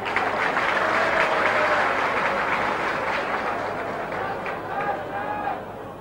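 Crowd applause fills Lumpinee Stadium in Bangkok during a Muay Thai event, a steady broad roar of clapping that holds loud throughout and fades slightly toward the end, with an announcer's voice over it.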